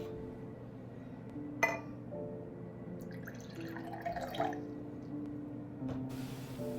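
Quiet water poured into a glass in a hushed manor room: a light clink of glass, then a soft trickling fill lasting a couple of seconds, with a faint room hum beneath.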